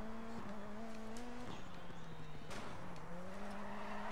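Rally car in the Dirt 4 racing game sliding sideways through a corner, a steady engine drone with shifting pitch and tire squeal at close range, loud and continuous, with brief bursts around gear changes and no talking.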